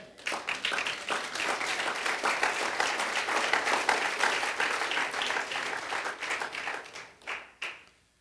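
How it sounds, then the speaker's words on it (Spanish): Congregation applauding in a church during a sermon, a dense, steady burst of many hands clapping for about seven seconds before tapering off at the end. "¿Cuántos aplauden al Señor?"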